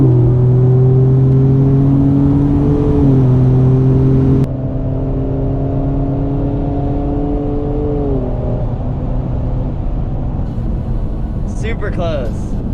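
Mercedes GLE 53 AMG racing a 500 HP Ford F-150 truck, engines droning loudly from inside a car as it accelerates hard through rising gear pulls, a shift drop midway, then steady cruising with brief speech near the end.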